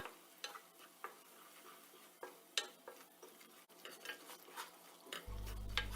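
A spoon stirring roasted gram flour (besan) with small green cardamom pods in olive oil in a pan over low flame, giving soft repeated scraping and light sizzling strokes at close range, with no talking.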